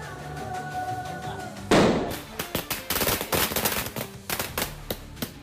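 Fireworks and firecrackers celebrating India's Women's World Cup win burst in a sudden loud blast, then a rapid irregular string of sharp crackling pops and bangs, with no talk over them.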